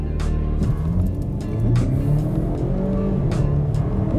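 A 2023 Volvo XC40 accelerating hard, its engine note rising steadily and loud from inside the cabin, with a continuous drone and a few shifts in pitch.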